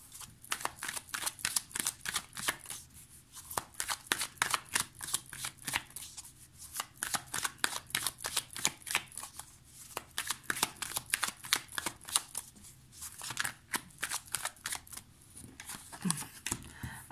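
A green magic tarot deck being shuffled close up, giving rapid bursts of crisp riffling and flicking in a quick, uneven rhythm, with short pauses between bursts and no talking.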